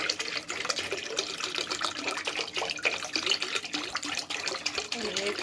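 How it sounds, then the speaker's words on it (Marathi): Cold water poured into a pot of crushed pineapple pulp for homemade juice, a steady gushing, splashing pour, close and continuous for several seconds, with a voice audible underneath. "बघा आता आपण हे अजून 1 लिटर पाणी त्याच्यात ओतायचं."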